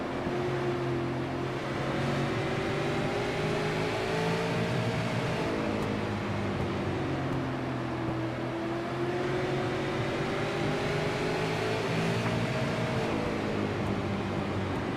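Steady onboard engine drone from Cody Kelly's SARA One Eight No. 55 race car with a Cottle Chassis, racing at Oxford; a continuous mid-level roar with harmonic pitch sweeping down and back up through the laps, no talk.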